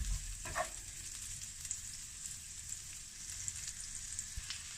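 Green onion simmers in a pan while fried rice is being made, giving a quiet, steady low sizzle with a faint hiss that runs the whole time, plus a few small clicks and no talking.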